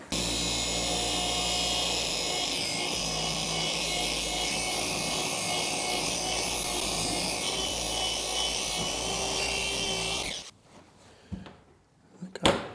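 A steady, loud machine whir of a car paint polisher runs continuously for about ten seconds, then cuts off, leaving faint handling noises.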